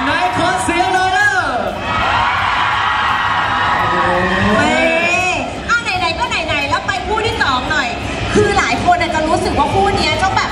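Audience at a Thai drama cast launch event shouting, whooping and cheering loudly in bursts, with a host's amplified voice mixed in over the crowd noise.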